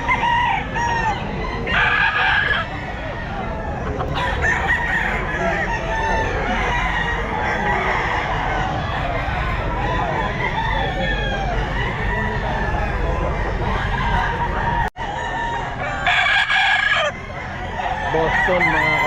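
A 13-month-old Kelso gamefowl rooster crows repeatedly at a busy pet market, its calls ringing over steady background chatter and clucking from other fowl.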